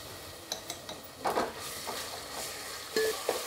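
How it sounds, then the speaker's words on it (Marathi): Ginger garlic paste frying in a pan for masale bhat, a soft continuous sizzle with light scraping and clinks of a spoon stirring, fairly quiet and close. "2 चमचे आलं लसणाची पेस्ट घालायचे"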